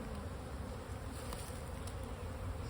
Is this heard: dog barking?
no